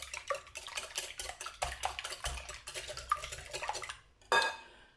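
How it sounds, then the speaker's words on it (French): Whisk or spoon beating eggs with sugar in a bowl, a quick steady run of clattering strokes up close, ending in a brighter clink against the bowl. "Donc nous allons remuer les œufs."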